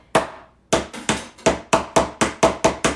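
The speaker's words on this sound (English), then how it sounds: "And hammer that in." Staples are hammered into a handmade beach wreath, about ten sharp, close metallic-wooden strikes in a steady rhythm after a first lone blow, loud and clear with no talking.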